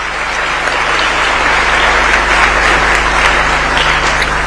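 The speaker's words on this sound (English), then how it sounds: "Another round of applause for His Excellency and all the speakers." A large summit audience claps steadily for His Excellency and the speakers, a brief, dense burst of applause at a constant level with no voices over it.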